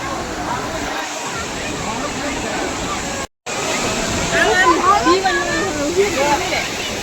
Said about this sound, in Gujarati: કેટલું પાણી પડે છે મસ્ત મજાનું